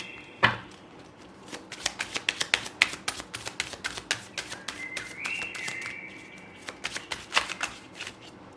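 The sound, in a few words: shuffling tarot cards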